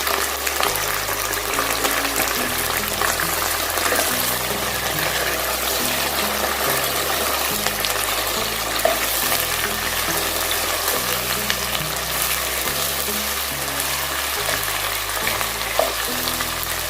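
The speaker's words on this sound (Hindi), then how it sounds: "और अब इसमें हमने वो जो चिकन बॉईल किया था यखनी में, वो अब हम इसमें ये सब डाल देंगे।" Boiled chicken with yakhni stock goes into a hot frying pan, giving a steady, even sizzle and bubbling hiss that runs throughout beneath music.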